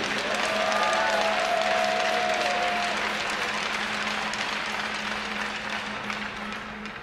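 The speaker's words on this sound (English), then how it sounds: "Let's give a round of applause for these great student achievers." An audience at a college men's hockey game claps steadily in sustained applause, a dense wash of hands that gradually fades toward the end.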